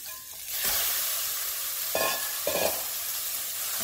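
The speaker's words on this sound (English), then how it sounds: "Now add in the beef." Ground beef sizzling in a pan over medium heat while fideo cooks, a steady close frying hiss with a few sharper bursts as the meat is stirred and broken apart.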